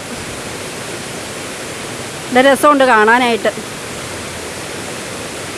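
Punnayar waterfall roars as a steady, loud, broad wash of falling water, while a voice speaks briefly over it.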